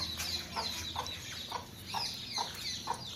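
Baby chicks cheep in short, repeated high peeps at a steady rhythm, clear and fairly close, joined by some clucking from nearby adult hens over light background noise; no talk.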